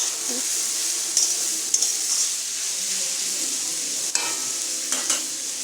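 Vegetarian pasta being stirred and mixed in a pan: soft sizzling under a few light scraping and clinking taps of the utensil, close and fairly quiet, with no talking.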